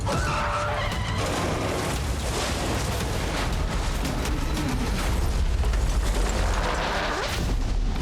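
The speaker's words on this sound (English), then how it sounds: "The truck crash sequence was huge." A staged truck rollover crash for the film Wolf Man: loud sustained scraping, crunching and rumbling of the truck tumbling and grinding, dense and close throughout with no pauses.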